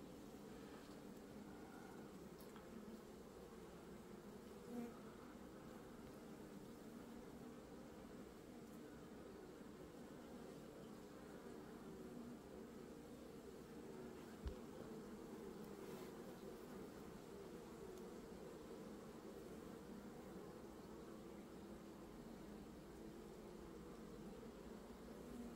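Honeybees swarming from a hive in spring make a dense, steady buzz that holds at an even level throughout, with no voices over it.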